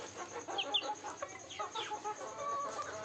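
Hens clucking and calling on a poultry farm, a flock of birds around five months old, with several overlapping close cackles and short squawks and no talking.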